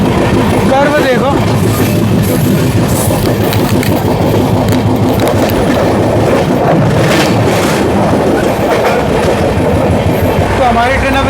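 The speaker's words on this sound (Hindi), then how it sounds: "तो हमारी ट्रेन अब स्किप करने जा रही है हाथरस रेलवे स्टेशन को" Amrit Bharat Express running non-stop past Hathras station: loud, continuous onboard rumble and rhythmic track clatter, with faint wheel squeal and a voice speaking over the noise.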